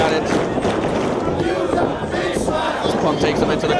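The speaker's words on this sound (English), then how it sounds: "And this crowd is letting Jimmy Rave hear about it." A wrestling crowd at an indoor tag-team match jeers a wrestler, a dense, steady wall of loud voices and shouting that stays constant throughout, with no pauses.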